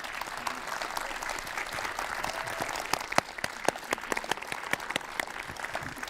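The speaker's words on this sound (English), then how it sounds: "It deserves a warm applause." Warm applause at a livestreamed warm-up event for the Venice Biennale 2022, a moderate patter of many hands with several sharper individual claps standing out near the microphone.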